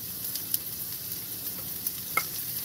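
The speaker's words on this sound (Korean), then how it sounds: "야채부터 볶을게요" Vegetables stir-fried in a pan for japchae give a steady, quiet sizzle and frying hiss throughout, with a few faint clicks and taps of a utensil against the pan. No voices.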